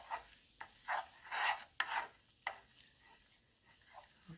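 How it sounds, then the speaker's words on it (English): Self-rising flour is stirred in a pan as it browns for water gravy: a quiet, steady scraping and rasping of spoon against the pan bottom, coming in repeated strokes with short pauses. "just keep stirring until it turns brown"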